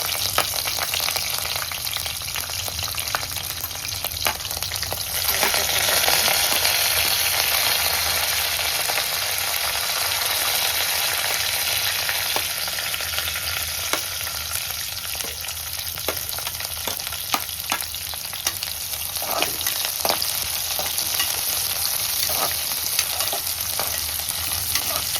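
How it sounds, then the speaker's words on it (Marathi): Onion and chillies sauté in a pan for prawn khichdi, a continuous close sizzle broken by frequent clicks and scrapes of stirring, with no voices over the long stretch. "कांदा छान गुलाबी रंगावर परतून घेऊया आपण।"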